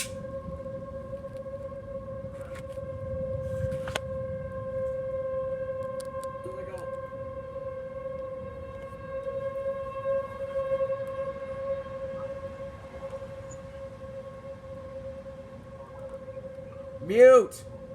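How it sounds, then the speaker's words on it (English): Civil defense sirens sounding a tornado warning, a steady sustained wail heard from a distance, with faint background noise and a brief louder knock near the end. "Listen to the sirens."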